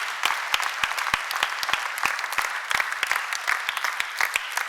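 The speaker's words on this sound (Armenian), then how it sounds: "Արեք մի հատ է ծափարենք իրանց" A church congregation claps together in a steady burst of applause, sharp individual claps rising from a dense mass of hands, with no voices over it.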